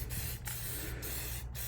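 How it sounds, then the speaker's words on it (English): Rust-Oleum red spray paint hisses steadily from a can into a hydrodip bucket of water, a continuous close aerosol spray with a few brief breaks in the stream. "I'm going to start by spraying some of the red into the bucket"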